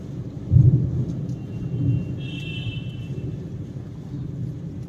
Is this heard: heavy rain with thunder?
yes